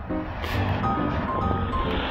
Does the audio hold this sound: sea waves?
yes